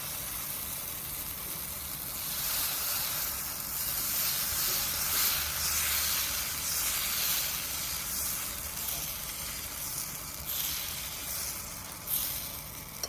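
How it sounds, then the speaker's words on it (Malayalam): A thin paneer masala dosa sizzles on a hot griddle, a steady loud hiss that swells and fades slightly, close up, without speech. "ഇനി ഒരു ദോശക്കല്ല് അടുപ്പിൽ വെച്ച് ചൂടായി കഴിഞ്ഞാൽ നമുക്ക് നെയ് റോസ്റ്റിനൊക്കെ ചുടുന്നത് മാതിരി കനം കുറച്ച് ഒരല്പം വലിപ്പത്തിൽ നേരെ ദോശ ചുട്ടെടുക്കാം"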